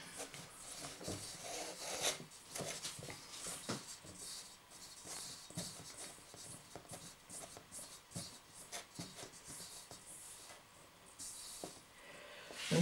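Butter being rubbed into flour by hand for a lemon cake gives soft, close, irregular scratchy rustling with short repeated bursts, quiet and continuous.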